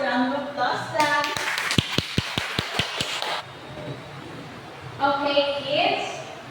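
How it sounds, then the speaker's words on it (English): Children in a classroom clap together about seven times in a quick, even burst, close and crisp, with a voice speaking before and after the claps. "Give Eliza and Rose a round of applause"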